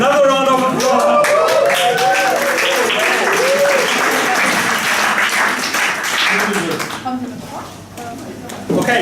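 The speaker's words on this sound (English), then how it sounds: "Another round of applause." An audience at a mini game jam presentation breaks into loud, dense applause mixed with cheers and excited voices, with the crowd noise thinning briefly near the end.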